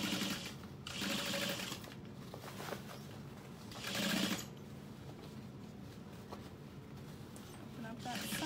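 A sewing machine stitches a garment in short bursts, pausing while the needle stays down and the fabric is repositioned; the motor whirs at moderate volume close by, with a voice talking between runs.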